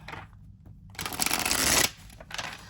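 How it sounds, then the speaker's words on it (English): Tarot deck shuffled by hand, a soft burst of riffling card noise, then a louder sustained shuffle followed by a shorter third flurry, close and alone with no talk. "I'm going to shuffle and see what cards come out"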